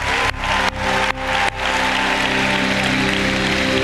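A church conference audience claps in a steady dense roar, briefly interrupted by a few sharp cuts near the start before the applause settles into an even, sustained ovation.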